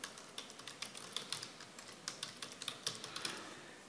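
A group policy name being typed on a computer keyboard in Windows Server 2022, a quick, uneven run of light key clicks, close and quiet, with no talking.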